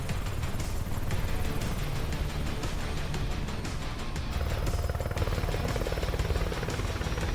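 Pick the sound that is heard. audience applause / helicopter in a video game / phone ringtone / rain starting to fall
helicopter in a video game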